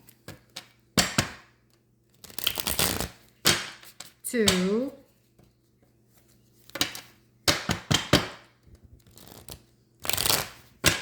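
A tarot deck being shuffled by hand in several short bursts of rapid riffling card flutter, separated by quiet gaps, with a voice counting between the shuffles.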